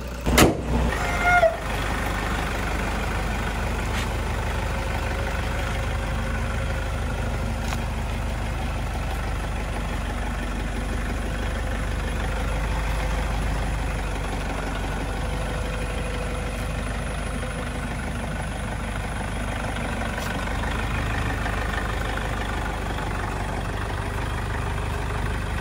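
A Toyota Innova rebuilt after an accident runs with a steady low engine hum and road rumble for the whole stretch, a brief knock at the start and no talking, heard from inside the vehicle.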